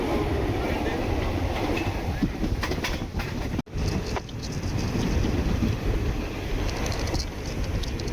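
The Palakkad Superfast Express passenger train rumbles along at steady volume with clattering rail noise and wind, briefly dipping in the middle before the continuous roar resumes.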